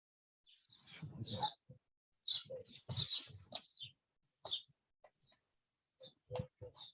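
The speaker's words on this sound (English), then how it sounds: "We are hearing a lot of birds." Birds chirp in short scattered bursts, with sharp high tweets and clicking sounds separated by pauses, fairly faint and distant.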